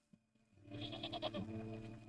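A goat in the video game Wytchwood bleats and protests while being sheared, giving a dense, continuous run of wavering cries over about two seconds after a brief quiet start.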